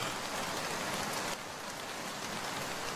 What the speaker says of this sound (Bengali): বাইরে হালকা বৃষ্টির আওয়াজ।